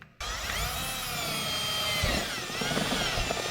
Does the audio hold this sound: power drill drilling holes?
yes